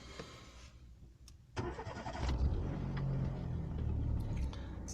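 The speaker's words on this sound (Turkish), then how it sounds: "aracımızı çalıştıralım." A 2000 Renault Twingo engine cranks briefly and catches at about 1.5 seconds, then settles into a steady, close, low idle that continues to the end.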